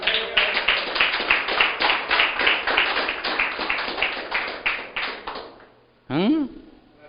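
Church congregation clapping in a fast, steady rhythm during a Spanish-language sermon on the gift of tongues, the claps loud and close before fading, followed by a brief rising shout.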